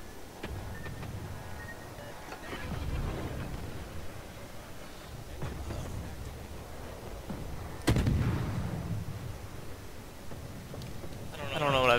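Naval ship guns fire during a sea battle involving the cruisers Belfast and Anshan: several deep, booming shots land a few seconds apart, with a sharper, louder crack near the eight-second mark.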